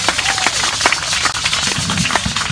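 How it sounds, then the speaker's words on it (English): Applause for Abraham at a celebration-of-life memorial, a steady wash of close clapping hands from a gathered crowd with scattered louder claps, sustained throughout without talk. "one more applause for Abraham."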